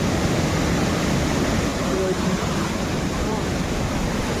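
Water flowing downhill at Ajodhya Hill in Purulia: a dense, constant outdoor rush of falling water that fills the whole scene without breaks, with faint voices underneath.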